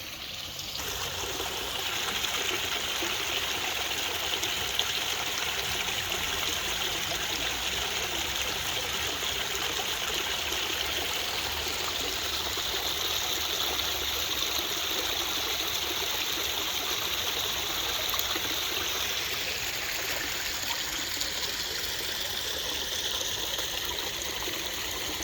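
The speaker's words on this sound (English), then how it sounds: "you just hear the water." Water flowing steadily in a backyard outdoor oasis at night, a continuous close trickling and splashing rush that holds at an even level for the whole stretch with no talk over it.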